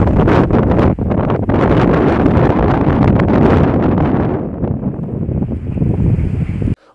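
Strong gusting wind in Vanadzor, Armenia, roars loud and steady across the microphone for several seconds, easing slightly before stopping abruptly.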